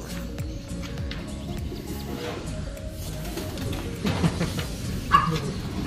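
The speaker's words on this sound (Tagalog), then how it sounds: "nandiyan yung mga ibon natin" Racing pigeons coo around a loft as birds return from a race in Solano, Nueva Vizcaya, soft repeated coos with a few chirps and handling noises, someone speaking faintly in the background.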